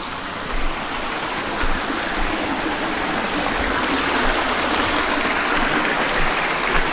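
A waterfall in the Philippines roars in a dense, unbroken rush of water, loud and steady throughout, with no voices.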